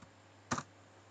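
A single short keypress burst on a computer keyboard, faint and isolated, with quiet room tone around it and no voices.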